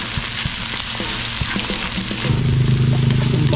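Garlic sizzling and crackling in hot oil in a pan, added after onions, a steady loud fry with small pops and stirring, growing fuller toward the end.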